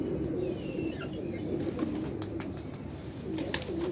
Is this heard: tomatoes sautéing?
no